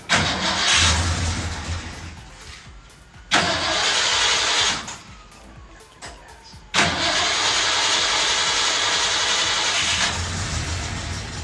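A carbureted Toyota 4Runner engine cranks in repeated bursts, then catches and runs steadily, loud and close, with no talk over it.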